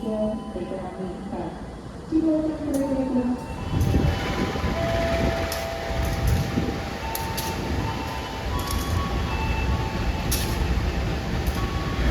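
The Bengawan passenger train overtakes the Motis Selatan train, which is hauled by a Red and Blue CC20-series locomotive. A loud rolling rail rumble builds and passes close by with a sustained horn tone, while people talk nearby.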